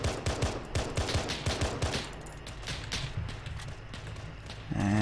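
Gunfire in the Halo mod Optre Ops, a run of sharp repeated shots in the first two seconds, then a quieter stretch of scattered, softer shots before a louder burst near the end.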